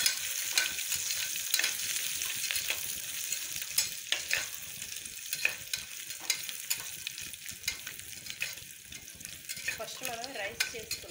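Whole spices sizzle and fry in oil in a pan ahead of adding ginger-garlic paste for sweet corn and carrot rice, a steady close crackle broken by repeated stirring scrapes and occasional utensil clinks, with no talk.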